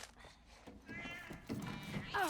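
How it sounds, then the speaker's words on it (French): A cat in The Last of Us: Left Behind lets out a rising screech, a short harsh yowl building toward the end, mixed with faint game ambience and a voice. "Oh, putain de chat."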